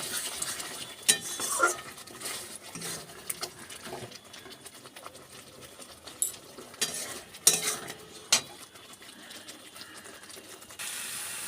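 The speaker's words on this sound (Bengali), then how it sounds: "টক দই ভালো করে মশলাটা কষিয়ে নেব" Spice paste with sour yogurt being stir-fried in a pan for a fish curry, with close, irregular clinks and scrapes of a spoon against metal over a faint sizzle.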